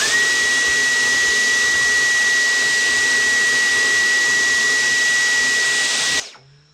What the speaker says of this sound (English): Just get your vacuum if you want to, and just like vacuum the rest of this.